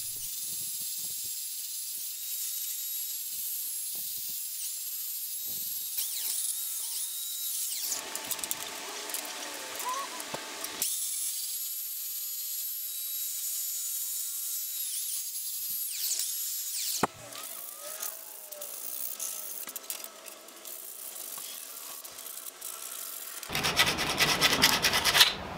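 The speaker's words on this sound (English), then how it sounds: "The belt sander puts a round shape to the handle." A belt sander grinds a wooden fire hook handle into a round shape, a continuous rasping whine with bursts of harsher scraping as the wood is pressed and rotated against the belt, close and loud throughout.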